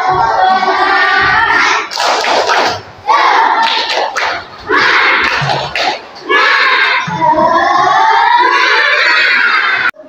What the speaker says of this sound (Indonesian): ayo kita hari ini tepuk semangat ya